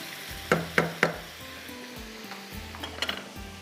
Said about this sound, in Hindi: थोड़ा सा मैं इसको यहाँ पर इस तरह से भून लेती हूँ गोश्त को